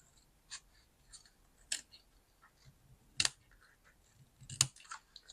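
Scissors trimming paper for a junk journal, a few sharp, crisp snips spaced irregularly with soft paper handling in between, close and fairly quiet.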